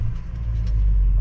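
A truck engine warms up at idle on a hot Florida day, a loud, steady low rumble close by with no talking.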